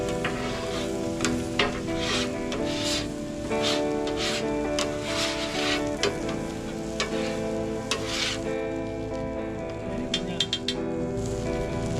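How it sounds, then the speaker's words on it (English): A metal scraper works across a hot griddle surface where food is still frying, close scraping strokes and clicks laid over a constant sizzle, with no voices. "We're going to scrape this side off where we're going to put down our potatoes."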